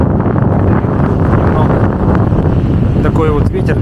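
Strong wind buffeting a tent at a mountain base camp near Munku-Sardyk, a dense continuous roar with flapping gusts and a brief voice in the background.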